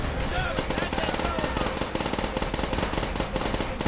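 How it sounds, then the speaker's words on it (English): Rapid machine gun bursts ring out in the Call of Duty: World at War video game, loud, close and continuous, with dense repeated shots across the whole stretch. "just shoot a bunch of bullets everywhere"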